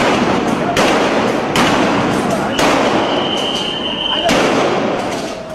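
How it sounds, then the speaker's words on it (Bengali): Police gunfire and sound grenades go off during a violent street clash, several sharp loud bangs and cracks spaced a second or so apart, ringing out over a noisy crowd with voices. "জবাবে আসে গুলি আর সাউন্ড গ্রেনেড।"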